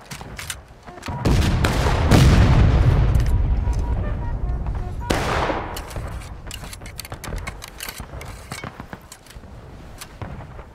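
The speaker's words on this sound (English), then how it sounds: "Keep that independent fire up, boys." Musket gunfire in a American Civil War battle game, a ragged volley of many overlapping shots that booms loudly then thins into scattered cracks near and far, with occasional distant reports trailing off.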